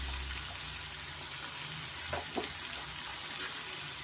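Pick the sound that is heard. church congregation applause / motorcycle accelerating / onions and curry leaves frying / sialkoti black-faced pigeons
onions and curry leaves frying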